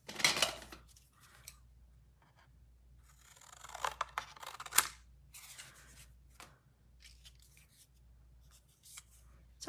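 Scissors snip freehand through paper in a quiet craft room, with several short, crisp cuts in irregular bursts and soft rustling between them.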